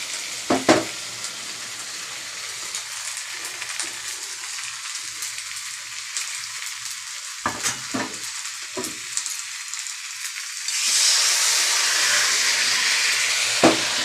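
Poppy seed paste and sesame seeds sizzling and frying in a pan, a steady close hiss with occasional stirring scrapes and clicks, the sizzle surging louder near the end.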